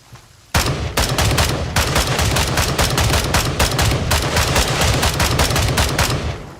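Rapid automatic gunfire in the video game Gray Zone Warfare, loud and close, with sustained bursts and short pauses running almost continuously after a sudden start.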